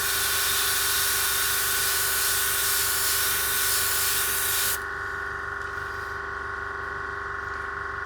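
An airbrush sprays acrylic paint in a steady, close hiss that cuts off abruptly partway through, leaving a quieter background hum with no talking.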